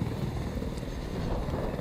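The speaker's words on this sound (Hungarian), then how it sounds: "az enemy helikopter viszont életben van." Enemy helicopter in the video game Battlefield 4, a steady rotor and engine drone filling the whole stretch at a constant loud level, with dense low rumble and no talk.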